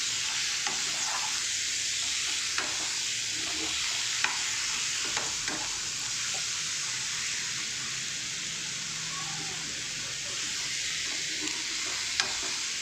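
Chicken coated in masala fries over low-medium heat, a continuous close sizzle threaded with the scrape and knock of a spoon stirring through the pan at an unhurried pace.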